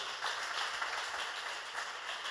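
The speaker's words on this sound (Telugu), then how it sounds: "కొడదామా చప్పట్లు?" An audience at a testimony gathering claps together in a steady, dense wash of applause, moderately distant and even in level for the whole stretch with no voices over it.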